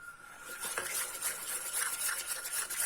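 A homemade slime of glue and paint is stirred in a container, giving soft, quick scraping and squishing strokes in a steady, close rhythm, fairly quiet and with no speech.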